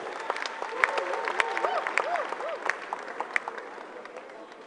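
An awards-show audience at the 7th Emy Africa Awards applauds steadily with scattered claps and light cheers, fairly distant, while a host speaks over the applause.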